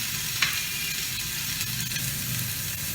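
Garlic paste sizzles steadily in a little oil, a close, constant hiss with one brief crackle near the start and no voices.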